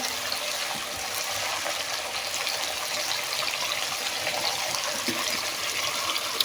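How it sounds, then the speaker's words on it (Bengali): Hot water is poured steadily into beef curry in a pot, making a continuous close splashing rush that holds even for several seconds with no talking. "গরম পানি দিয়ে দেবো বেশি করে"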